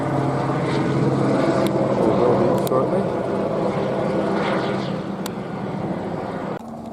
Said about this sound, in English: black and white helicopter approaching again